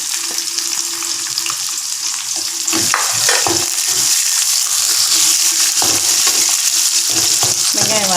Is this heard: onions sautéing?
yes